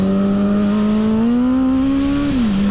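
A 2006 Suzuki GSX-R 750 motorcycle engine on a test ride after a rebuild, droning loud and close with a steady pitch that climbs gradually, then drops near the end as the rider shifts.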